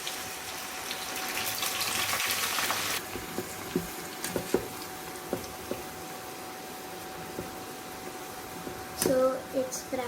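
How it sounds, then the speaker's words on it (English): Corn kernels coated in corn flour frying in oil, a steady soft sizzle and hiss with a louder burst of splattering early on, then quieter crackling pops, with a brief noisy flare near the end. "So it's frying."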